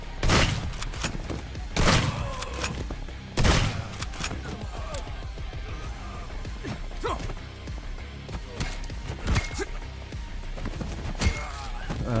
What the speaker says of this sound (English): The gun does not work as well as you'd expect a gun to work.